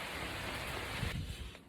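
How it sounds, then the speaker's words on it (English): Steady rain falls on a garden room roof under construction, a dense, even hiss that holds close and constant, thinning slightly near the end with a few soft low knocks. "I'm going to sit here and ride out the rain for a minute"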